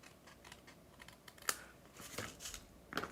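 Paper overhang on a handmade card being trimmed with a cutting tool: a series of quiet, crisp snips and light taps, with a couple of sharper clicks and rustles near the end.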